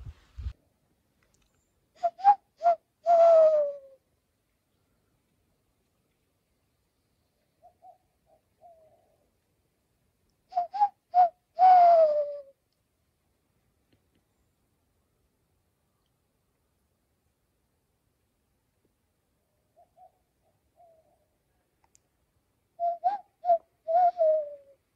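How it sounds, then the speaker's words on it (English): A bird calling along a trail on the Pacific Crest Trail, repeated soft cooing phrases of a few notes each, spaced roughly every ten seconds with quiet stretches between, fairly clear and alone. "Nice little spot to have a conversation with a bird."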